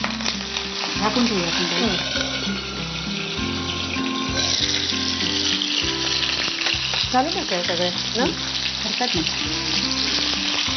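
Potato pieces cook with green chillies and a little water in a covered pan on the stove, giving a steady hiss and sizzle with faint stirring clatter, running under a voice talking throughout.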